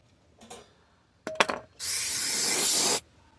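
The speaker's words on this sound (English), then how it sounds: "Brake cleaner." A can of brake cleaner sprays onto the valve cover of a Toyota 3.3L engine in one steady hiss of a little over a second, preceded by a few light metallic clinks and rubs.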